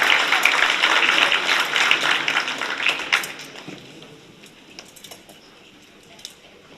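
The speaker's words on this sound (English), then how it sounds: "Give them a big round of applause." An audience applauds at a Scór na nÓg county final in Cork, a dense burst of clapping that fades after about three seconds into a few scattered claps and quiet room noise.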